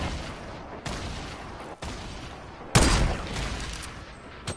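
Gunfire from behind the player in the video game Fortnite: a few sharp, fairly distant shots break up a steady noisy backdrop, with the strongest burst near the end.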